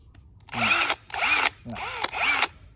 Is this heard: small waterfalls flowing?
no